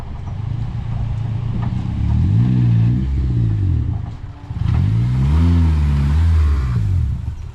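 A 2003-2011 Honda Element engine revving hard in two sustained pushes as the car is driven up onto a driveway, loud and close, with a brief dip between the efforts.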